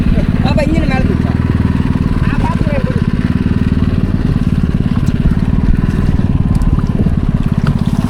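A fishing boat engine at sea drones loudly and steadily nearby, a low throbbing rumble that continues throughout while voices talk over it.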